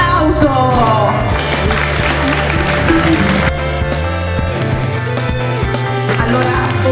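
Pageant audience at a Miss Mondo Italia fashion show and awards event applauds steadily for several seconds, a dense crowd clapping with some cheering and a lively hall murmur.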